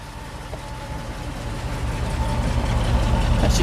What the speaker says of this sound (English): That's exhaust running out the back.